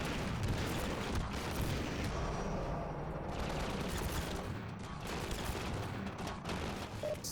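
Sustained battle noise against a gunship in Half-Life 2, a loud, dense wash of rapid gunfire and rumbling booms running continuously with no clear gaps.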